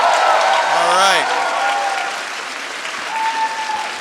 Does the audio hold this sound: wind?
no